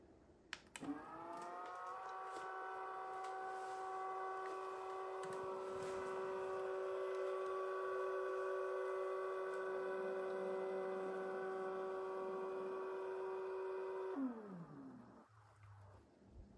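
A SmartWings motorized shade runs with a steady tonal motor whine and hum for about thirteen seconds, starting and stopping abruptly, fairly quiet and alone in a calm room.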